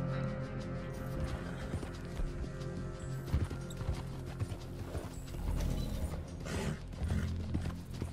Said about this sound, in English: my horse is running out of stamina, that's not good.